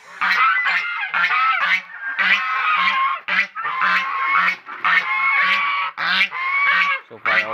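Five penned turkeys give repeated loud honking, gobbling calls in quick bursts with short gaps, close by and fairly dominant.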